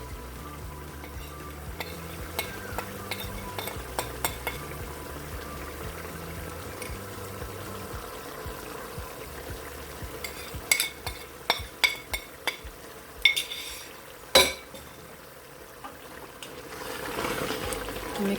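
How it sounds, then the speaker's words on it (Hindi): Spices being stirred into a Turkish stew in a pot. A soft simmering sizzle runs underneath, and in the second half scattered scraping clinks of a spoon against the pot grow louder, ending in a rising bubbling hiss. "मिक्स करेंगे अच्छी तरह से।"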